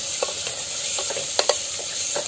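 Tomatoes sauté in a clay pot over a wood fire, giving a constant close sizzle with a handful of soft stirring clicks and scrapes scattered through.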